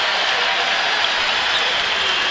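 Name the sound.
basketball fans applauding in the arena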